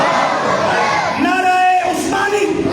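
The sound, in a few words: crowd shouting religious slogans in response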